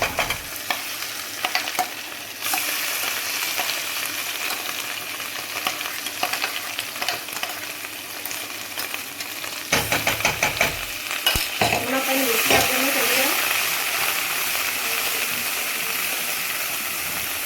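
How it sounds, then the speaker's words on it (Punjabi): Ground tadka masala paste for soya chaap gravy fries in a pan with a loud, steady sizzle and hiss; midway a burst of stirring and scraping adds uneven clatter before the sizzle swells again. "ਹੁਣ ਆਪਾਂ ਇਹਦੇ ਵਿੱਚ ਪਾਣੇ ਆ ਤੜਕਾ ਜਿਹੜਾ ਆਪਾਂ ਗ੍ਰੈਂਡ ਕਰਕੇ ਰੱਖਿਆ"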